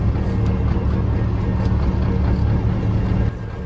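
An MTZ-82 tractor drives home from mowing alfalfa, its engine a loud, steady, close low drone that holds constant before easing slightly near the end, with no talking.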